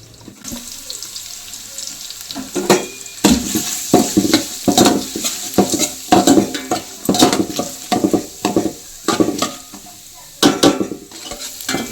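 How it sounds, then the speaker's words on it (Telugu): Onions and green chillies fry in a pan with a low sizzle, broken by a steady run of close, loud stirring and scraping strokes, with no talking. "ఈ ఉల్లిపాయలన్నీ కూడా మంచిగా ఫ్రై అయ్యేంత వరకు వేయించుకోవాలండి"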